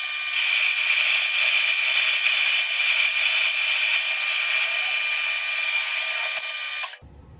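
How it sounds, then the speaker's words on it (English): A metal lathe turning at about 200 RPM drives a cutoff tool through a Ruger MK IV Target pistol barrel, giving a steady, loud, high-pitched machining whine and scrape that runs unbroken for about seven seconds, then stops abruptly. "So we got our cutoff tool installed on the lathe. We're going to be running about 200 RPM. So let's get it fired up and cut off."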